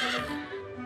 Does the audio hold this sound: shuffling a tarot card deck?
no